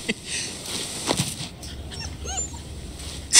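A dog whimpers and yips in the samurai-era action game Like a Dragon: Ishin! Kiwami, several short whines over a soft ambient bed, with a sharper sound at the very end.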